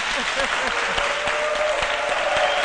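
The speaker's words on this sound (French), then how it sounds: "Je vais vous entendre vous applaudir encore une fois." A television studio audience at a midday talk show in Côte d'Ivoire breaks into sustained applause, a dense, steady wash of many hands clapping at once, with some voices mixed in.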